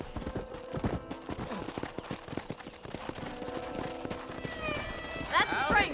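Horse hooves clip-clop at a trot in the Red Dead Redemption video game, close and rhythmic, with a horse whinny near the end and voices talking over it.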